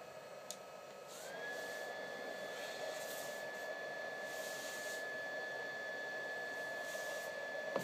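A small stove fan driven by a copper heat probe whirs at a backpacking shelter, spinning up after about a second into a steady, faint, high-pitched electric hum over soft background hiss.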